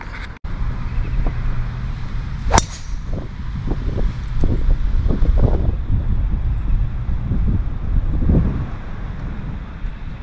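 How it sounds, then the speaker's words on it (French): Steady strong wind roaring across the microphone outdoors on a golf course, with low rumbling gusts and scattered thumps and clicks, no voices. "il y a plein vent dans la gueule"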